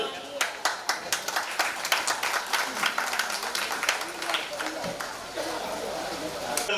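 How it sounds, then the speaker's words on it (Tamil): A crowd claps in applause at a Navaratri temple festival, steady and dense with sharp individual claps standing out, fairly close. "கரகோஷப்படி கேட்டுக்கொள்கிறோம்."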